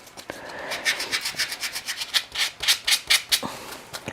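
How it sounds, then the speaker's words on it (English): A sanding block rubs back and forth by hand along a painted edge, producing a steady series of soft, rhythmic scratchy strokes that grow a little stronger toward the end, close and alone. "if you just sand away, you can sand off most of that"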